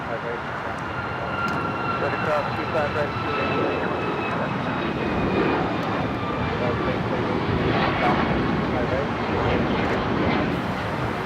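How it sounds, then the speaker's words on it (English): An Alaska Airlines Boeing 737 MAX 9 departs a busy airport, its jet engines giving a broad, steady rushing roar at moderate distance, with faint whining tones drifting above it. "Alaska Airlines flight 1360, heading to Cabo, a 737 MAX 9"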